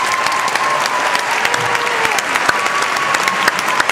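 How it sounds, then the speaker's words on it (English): Large graduation crowd of family and friends gives a steady, sustained round of applause, dense clapping filling the space with scattered cheers, no one speaking. "You deserve a large round of applause."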